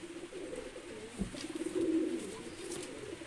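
Pakistani pigeons let out soft, low cooing calls, faint and repeated in a gentle rolling rhythm against a quiet background.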